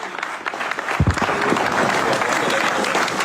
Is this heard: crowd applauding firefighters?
yes